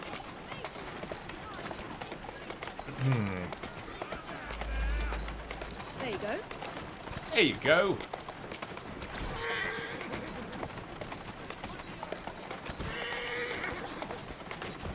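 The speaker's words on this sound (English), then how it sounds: "Got a nice fast horse." Horse-drawn carriage with a fast horse in the game Assassin's Creed Syndicate, hooves and wheels rumbling steadily beneath a voice, with a brief louder burst midway.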